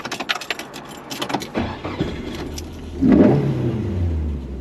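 A rear-wheel-drive Ford Escort Mark II engine turns over with clinks and rattles, then catches around the midpoint and settles into a steady, close low-pitched idle that keeps running to the end.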